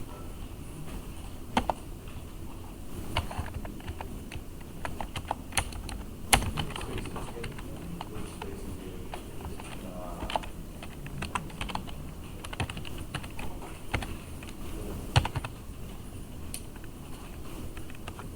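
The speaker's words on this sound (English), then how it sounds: "Then type my password." Irregular clicking keystrokes on a computer keyboard as a password is entered, steady close-up tapping with occasional sharper key hits, no talk.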